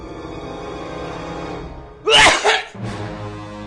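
A single loud, close sneeze bursts out sharply after a stretch of steady voiced sound, followed by a brief gasp and continuing murmur.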